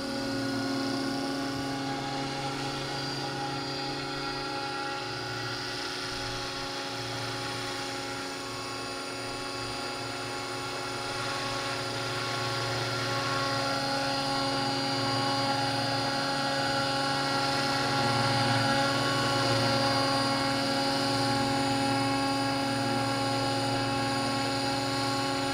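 Scale RC helicopter with a mechanical tail rotor flying and then landing on a pad, a steady loud rotor drone and whine with layered tonal hum that swells slightly toward the end, close by and continuous.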